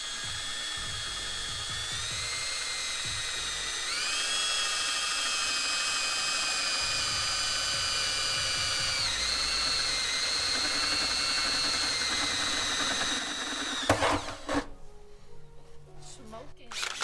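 A power drill bores through a Cobalt metal three-point strut tower brace on a Miata, giving a loud, sustained high whine that rises in pitch and wavers, with voices heard under it before it cuts off.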